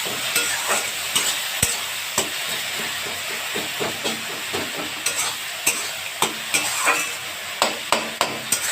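Spice masala with turmeric, salt and green chilli paste frying in a pan for a fish curry, a continuous hiss and sizzle punctuated by frequent rhythmic scrapes and taps of a spatula stirring, no voices.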